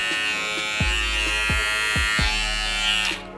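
Wahl Cordless Detailer Li hair trimmer running close up, a steady high electric buzz with a few soft clicks and bumps before it switches off at the end.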